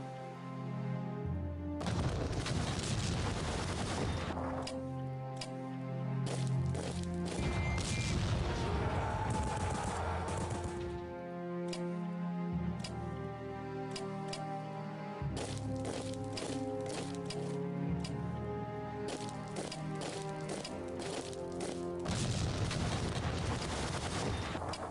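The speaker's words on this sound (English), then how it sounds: "as we use a ton of artillery there" Artillery fire in the World War I strategy game Strategic Command, a dense, loud barrage of booming blasts and rumbling explosions continuing almost without pause, with game music or effects layered underneath.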